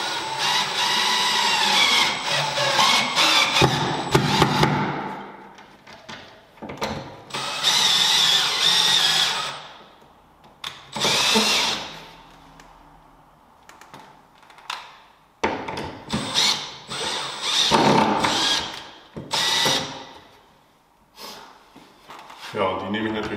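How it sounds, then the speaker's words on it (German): A power drill with a hole saw whines in several bursts cutting into drywall, stopping and starting, with a person talking in the pauses between cuts. "säge ich mit der Lochkreissäge ein Stück aus"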